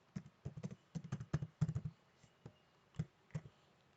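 Close, quiet clicking of computer keyboard keys being pressed in quick irregular bursts, then a few slower single taps, with no talk.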